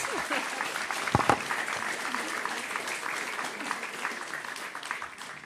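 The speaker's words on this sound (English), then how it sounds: "not after thanking with a huge applause Eric, Sarah, and Sietske" Listeners at a talk on the Jewish street in Amsterdam and Paris after 1945 give the speakers a steady round of applause, moderately loud with a couple of sharper claps early on.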